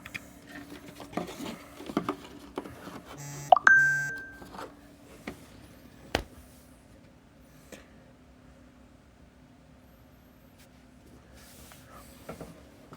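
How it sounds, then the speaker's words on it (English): A phone gives a brief electronic beep, a short tonal chirp followed by a sliding tone, in a home-lab setting among faint handling noises and low background hum. "Apologize about my phone deciding to peep in here."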